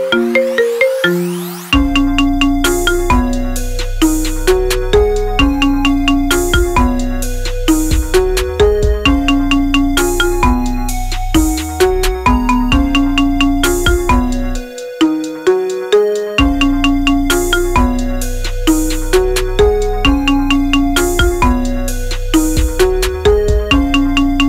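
Marimba remix of a song arranged as a ringtone: bright mallet notes in a steady looping pattern over a deep bass line, played loud and continuous with one brief drop-out partway through.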